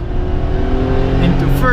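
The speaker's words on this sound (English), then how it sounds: "we're gonna do a little acceleration of our like Ferrari van. Second gear." A warm 1994 Honda Acty van, an early fuel-injected model, accelerates in second gear with a steady, loud engine drone whose pitch climbs toward the end, heard from inside the cabin.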